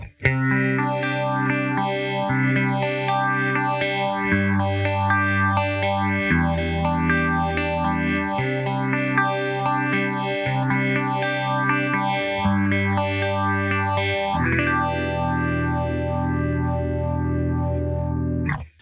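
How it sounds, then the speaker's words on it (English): Electric guitar playing steady chords through a Line 6 POD HD500x phaser modeled on an MXR Phase 90, the tone swirling and whooshing in slow repeating waves; loud and continuous with no voices. "Now this phaser is going to be similar to like an MXR Phase 90."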